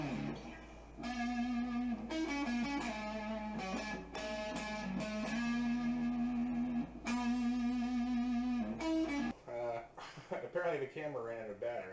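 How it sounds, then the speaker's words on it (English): Distorted electric guitar played through the neck pickup of a Squier John 5 Telecaster fitted with Gibson 490R/498T pickups, sustained chords and riffs ringing loud and close, cut off abruptly near the end. "So we've got a little bit of distortion on the neck pickup."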